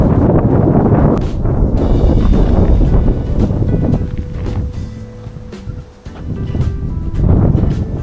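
Strong gusty wind buffets an open hillside at the ancient ruins of Philippi near Kavala, roaring loudly in uneven surges with a short lull before building again.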